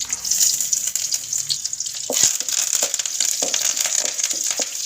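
A crackling, sputtering sizzle of dried red chilies and shallots frying in hot oil, with sharp pops and clatters from about two seconds in; no voices.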